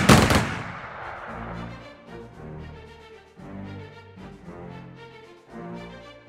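Battle gunfire in the strategy game Strategic Mind: Fight for Freedom, Burma campaign: a loud opening blast, then bursts of shots over a steady martial music bed, with no talk.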